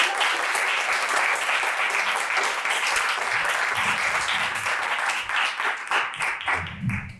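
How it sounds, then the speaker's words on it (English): Sustained audience applause at a food-system symposium greets a guest speaker, a dense, loud wash of clapping from a crowd that fades slightly toward the end. "Please give a big round of applause."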